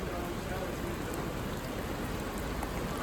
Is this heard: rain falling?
yes